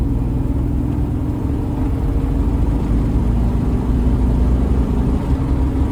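A Nissan Hardbody truck's engine pulls hard on a highway, shifting up through the gears; a loud, steady low rumble drones close by without a break.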